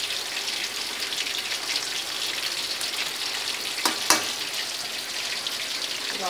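Battered mairo fish frying in hot oil gives a steady, dense sizzle that holds at an even level, broken near the middle by a couple of sharp pops or clinks.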